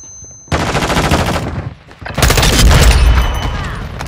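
Heavy automatic gunfire and explosions from a Modern Warfare 2 team deathmatch on PC with an M4, loud and dense, starting after a brief pause and swelling into a sustained barrage with deep booms.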